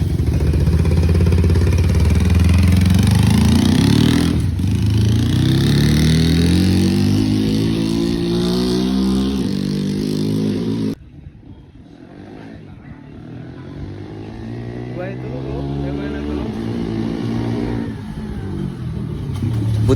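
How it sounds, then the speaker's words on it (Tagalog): A dirt bike engine revs hard and loud on a test ride after repair work, rising and falling in pitch, then drops to a quieter running note before climbing again. "Kaya tinest drive na ni Tol Joshua dito si Kabang kung palyado ba yung gawa ni Mamba Works"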